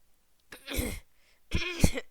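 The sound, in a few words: throat clearing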